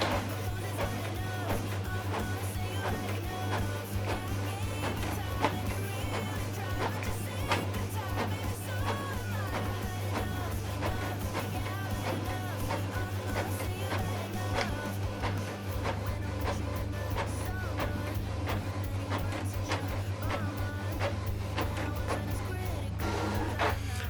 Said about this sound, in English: This is the document we scanned, printed it out, double-sided, colored.